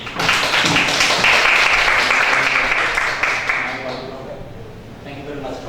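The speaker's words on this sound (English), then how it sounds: "Let's give him a round of applause." A conference audience claps to welcome invited speaker Dr. Ariyadi Wijaya, a full burst of applause that swells quickly and then thins out over a few seconds as a voice begins.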